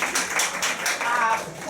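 Audience applause breaks out at a public health debate on Brazil's SUS system, a brief burst of scattered clapping that lasts under two seconds at moderate volume.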